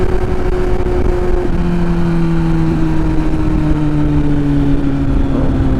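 A motorcycle engine held at a loud, steady rev close by, a constant droning hum whose pitch sags slightly, with no speech over it.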